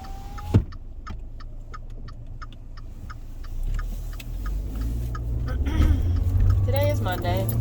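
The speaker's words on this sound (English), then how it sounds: "Traffic." Street traffic heard from inside a car: a steady ticking pulse runs over a low engine rumble that swells toward the end, with a person's voice briefly present.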